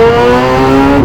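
A 2014 Kawasaki Z1000 Sugomi, 1000cc Japanese naked bike with full mods, holds a steady high rev for a launch-control start, its loud, close engine droning evenly throughout with no talking.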